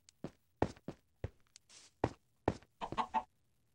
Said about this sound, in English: I hear chicken footsteps. There you are. Oh, chicken.